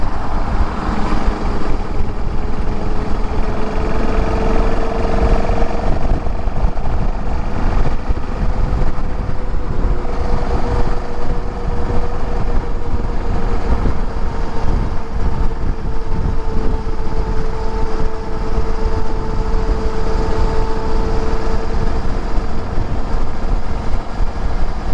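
A motorbike ridden along a road near northern beaches by a learner rider, with a steady engine drone under heavy, constant wind rush across the microphone and no talking.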